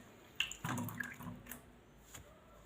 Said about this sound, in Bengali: আলুটাকে আমি ভালো জল দিয়ে ধুয়ে নেব 2-3 বার করে